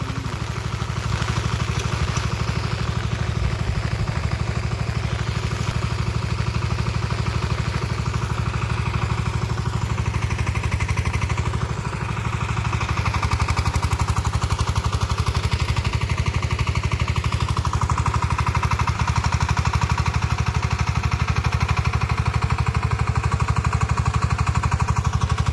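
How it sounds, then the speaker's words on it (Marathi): A tractor engine running steadily for the whole stretch, a loud close diesel clatter with a constant low drone and no pauses. "ये आपला ट्रॅक्टर काढला आहे आपली."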